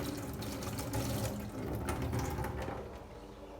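Tap water pours steadily over a glass bowl being washed in a sink, a continuous close splashing and gurgling with a few sharper drips.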